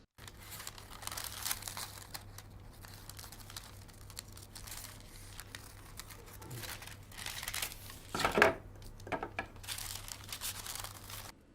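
Scissors cutting out small detail pieces of a soft toy pattern, quiet close snips and paper crinkling in an irregular rhythm, with a brief louder rustle near the end.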